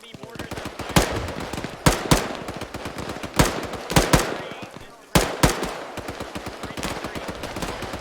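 Gunfire during a military field training exercise, about ten loud, sharp close shots and bursts at irregular intervals, some in quick pairs, over constant rumbling background noise with occasional voices.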